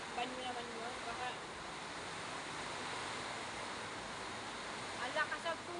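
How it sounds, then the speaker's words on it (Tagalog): Heavy water pouring and splashing during typhoon flooding, a steady broadband rush that stays loud and close throughout, with no clear separate drips. "ang lakas ang tulo!"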